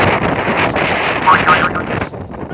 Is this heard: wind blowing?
yes